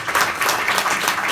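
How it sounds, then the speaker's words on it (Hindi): Applause from a concert audience right after a sarod performance with tabla, a brief, close burst of dense clapping without pause. "आपकी तालियों की गड़गड़ाहट बता रही कि आप कितने"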